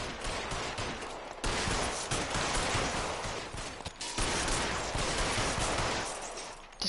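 Sustained bursts of gunfire in the video game LA Noire, dense rattling volleys that drop out briefly twice before resuming, loud and continuous without talk.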